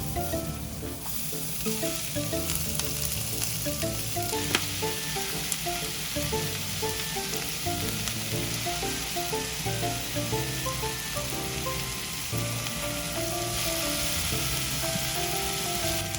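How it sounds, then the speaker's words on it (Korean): Onion and potato stir-fry over medium-high heat in an evenly oiled pan, a continuous close sizzle with soft scraping of the utensil running through it. "팬에 기름을 골고루 두르고 중강불에서 양파와 감자를 먼저 볶아줍니다"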